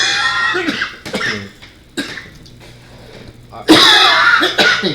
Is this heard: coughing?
yes